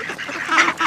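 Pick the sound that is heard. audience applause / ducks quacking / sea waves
ducks quacking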